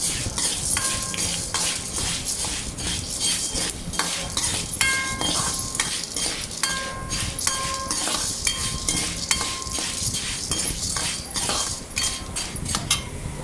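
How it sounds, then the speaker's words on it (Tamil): Black urad dal being dry-roasted in a pan and stirred steadily, with a constant scraping rustle and frequent light clinks of a metal spoon against the pan, close up and with no talking. "உளுந்து கறிவிடாமல் இடையில நல்லா கிளறி விட்டுட்டே இருக்கணும்"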